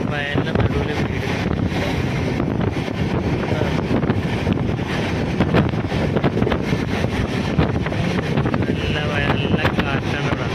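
Strong wind blowing around a moving train by green fields in Punjab, a loud steady roar buffeting the microphone without pause.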